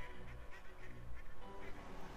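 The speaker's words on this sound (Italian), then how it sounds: "le papere!" Cartoonish ducks quack repeatedly in a video game, honking calls overlapping against steady game music, fairly loud and continuous.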